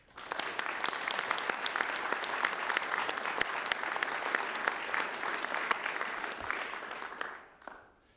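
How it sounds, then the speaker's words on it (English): Council chamber applause for Patrick, a crisp spread of individual hand claps from a modest group, steady for about seven seconds before tapering off quickly near the end. "So please could we also have a round of applause for Patrick."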